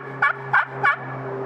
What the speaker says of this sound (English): a regular hen yelp is a faster cadence.